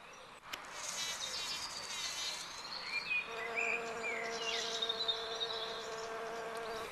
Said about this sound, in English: To buzz, the bee clings to the end of the anthers and then moves its flight muscles rapidly.